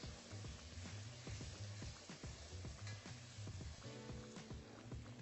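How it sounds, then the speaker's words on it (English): Garlic and tomato paste cook in a pan with a steady low sizzle, accompanied by a repeating low hum and occasional soft scrapes throughout. "We'll add a few tablespoons of tomato paste and we'll cook that until the tomato paste browns."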